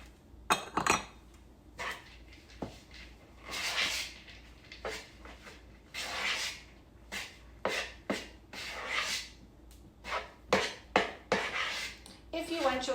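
Cheese is mixed into scone dough in a bowl, giving intermittent scraping, rubbing and light clinks of utensil against bowl, close and fairly quiet, with a voice talking at times.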